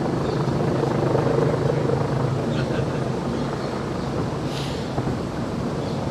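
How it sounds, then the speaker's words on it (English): Loud, steady rotor drone of military helicopters (Wildcat, Merlin, Puma, Chinook) passing overhead in the Queen's Platinum Jubilee flypast, 2022, a continuous low rumble with wind buffeting and no talking. "Wildcat helicopter, Merlin helicopters, Pumas, and possibly at the back there are the Chinooks."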